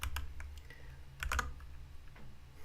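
Fingers type on a computer keyboard while entering a command in a terminal, giving a quick uneven run of close key clicks with a brief flurry in the middle, no talking.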